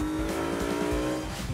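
A car pulls away with its tires squealing, a sustained loud screech over engine noise that stays close throughout.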